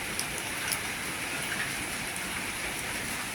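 Steady rain falls, a constant close hiss of drops with a few brighter patters, no speech.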